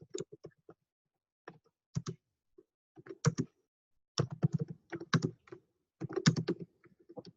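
Bursts of typing on a computer keyboard while entering a recipe, close and clear clicking clusters separated by short pauses of silence, with no one talking.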